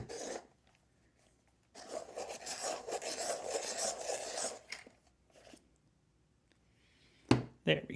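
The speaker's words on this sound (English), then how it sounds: "Got my handy sharpener." A handheld sharpener scrapes with dry, rasping strokes in two bursts, a longer grinding pass and a shorter one, close and quiet, followed by a few sharp clicks.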